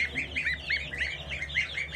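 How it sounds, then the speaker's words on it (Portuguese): Soft, high chirping calls repeat in quick succession over a low steady background hum, several goose goslings peeping close by. "Filhotinho de ganso, ó."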